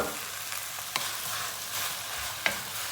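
Tomato paste sizzles and catches on the bottom of a pan, a dense continuous crackle with a couple of sharp scraping taps from stirring.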